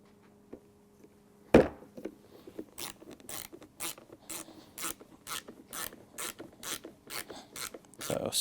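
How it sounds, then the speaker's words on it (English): A ratcheting screwdriver drives screws into a Griot's Garage Ultimate Detailing Cart. One sharp knock comes first, then repeated bursts of quick, close ratchet clicks with no talk. "Ratcheting screwdriver like the combi drive definitely makes it easier"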